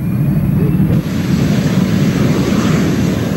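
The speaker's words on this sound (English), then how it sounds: "jet noise is the sound of freedom" A Jet Provost jet trainer roars loudly and steadily overhead, a constant broadband engine rush with no voices.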